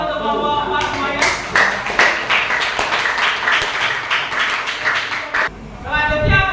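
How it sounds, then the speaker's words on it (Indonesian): Classmates clap for group 4 after its presentation, a few seconds of brisk rhythmic hand clapping from a small group, with a voice talking briefly before and after. "Kita beri tepuk tangan untuk kelompok 4 semuanya."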